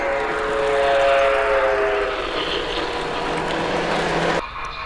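Model trains, including N gauge and large O gauge Lionel sets, run on a museum railroad layout, giving a steady rolling rumble and clatter with a whistle-like tone, ending abruptly near the close.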